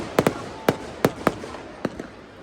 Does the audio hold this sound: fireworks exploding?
yes